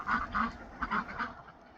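Ducks on a homestead pasture give a run of moderately loud, rhythmic honking quacks, about five calls in under two seconds, with no talking.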